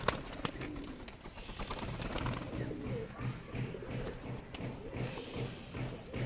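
Pigeons tumble and land on a tin roof, giving faint, scattered thumps over soft cooing and low background noise.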